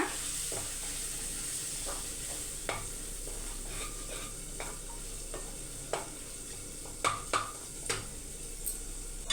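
Chili powder being stirred into a sizzling onion curry base for egg kuzhambu, a steady frying hiss throughout with a spoon scraping and tapping the pan at irregular intervals, several sharper clinks near the end.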